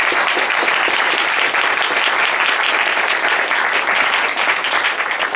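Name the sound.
audience applause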